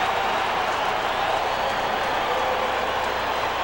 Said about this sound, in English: with the crowd in full throat